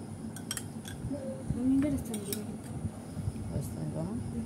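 A spoon clinks against dishes while haleem is served at a home table, a few light metallic taps scattered among steady chatter and nearby voices.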